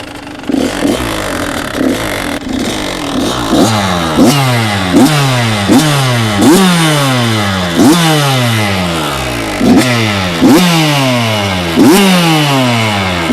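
A Kawasaki KX 84cc two-stroke off-road motorcycle engine revved up again and again, a loud, close, buzzy whine that climbs in pitch with each blip of the throttle and drops back between them in a steady rhythm.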